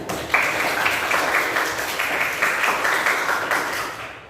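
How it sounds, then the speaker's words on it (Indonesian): A school class clapping for themselves at the end of a lesson, a steady round of applause from a roomful of students that tapers off at the close. "berikan tepuk tangan untuk kalian"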